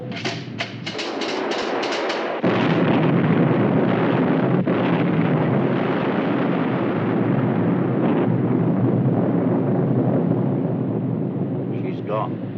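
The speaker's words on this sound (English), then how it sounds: "Hit. Torpedo." A torpedo hit explodes on a ship in a 1953 naval war film: a sharp onset after a couple of seconds of wind-like rumble, then a sustained, loud, roaring wash of blast noise and debris that holds steady for about ten seconds.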